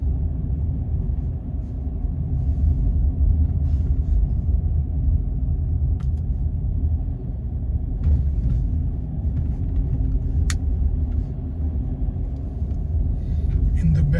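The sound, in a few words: car driving on a road, heard from inside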